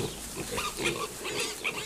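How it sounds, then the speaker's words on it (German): Piglets in a pigsty compartment on a farm grunt and oink in short, overlapping bursts close by, with a few higher squeals, with no talking. "Nun ist so viel vom Fressen die Rede gewesen, dass es auch im Schweineabteil nebenan die Ferkel rauslockt."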